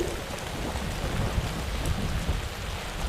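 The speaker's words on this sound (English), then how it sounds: "So off we go into the rain, into the wind, into the cold." Steady rain pours outdoors on a cold day, a dense continuous hiss with low rumbling gusts of wind underneath, loud and close throughout with no voices.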